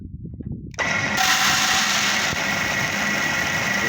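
A 61 mm flexible auger grain loader running at 400 rpm, moving soybeans, starts with a sudden loud motor whir and then runs as a steady, dense mechanical drone for several seconds, with no talk.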